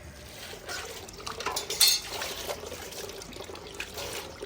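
Breakfast dishes and utensils are washed in a village kitchen, with running water trickling and metal pots, plates and cutlery clinking and scraping up close in irregular bursts.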